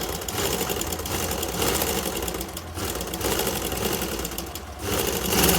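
Sewing machine stitching a blouse neckline, a steady rapid mechanical chatter running continuously with slight surges in speed, fairly close and loud, with no voices.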